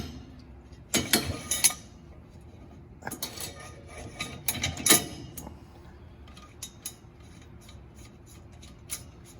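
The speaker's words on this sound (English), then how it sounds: "Then it's just a simple matter of tightening the bolts back up." Bolts being tightened back up on a bicycle spine with a tool, brief close metallic ratcheting and scraping bursts separated by quiet pauses, with a few light clinks.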